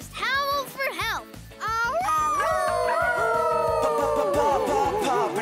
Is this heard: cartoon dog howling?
yes